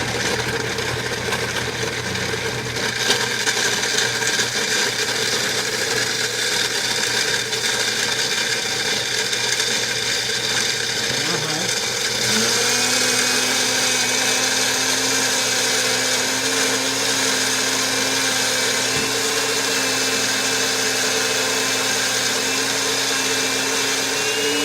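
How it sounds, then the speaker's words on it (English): A blender whirs steadily at high speed, loud and close, blending coconut to extract the milk, its pitch shifting partway through as the load changes; no talk. "we're going to blend the rest of the coconut here to get the remaining milk out of the coconut"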